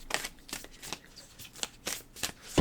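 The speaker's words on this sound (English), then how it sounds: "these cards are very thick. They're hard to move around. They're hard to shuffle." Thick oracle cards are shuffled by hand in stacks, giving a series of soft, close riffling bursts in an uneven rhythm, about eight in quick succession, followed by a louder thump.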